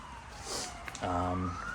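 A distant ambulance siren wails faintly, its tone sliding steadily upward over a quiet background, with a brief louder tonal swell partway through.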